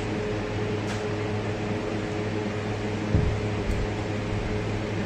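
An air cooler runs steadily through the whole stretch in a home kitchen in hot weather, a constant broadband whoosh with a low steady hum, and faint clinks now and then.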